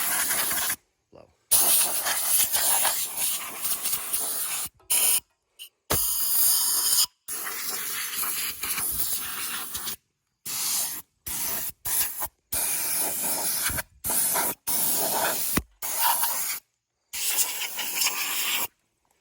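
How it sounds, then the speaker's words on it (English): A compressor's air line blows compressed air through a nozzle with a bypass air hole, producing loud, harsh hissing bursts that start and stop abruptly, repeated many times with short silent gaps between them. "I want bypass air to get sucked in there to increase the volume of air being blown."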